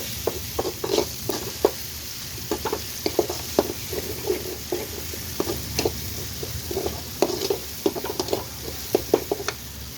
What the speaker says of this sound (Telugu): బాగా వేయించుకోండి